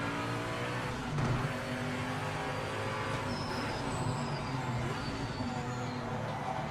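A race car engine in the Project Motor Racing sim racing game drones steadily with shifting pitch and occasional higher whines from other cars, continuous and mid-level throughout.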